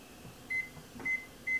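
A kitchen oven timer gives three short, evenly spaced electronic beeps, fairly faint against a quiet room hum, while baked buns cook inside.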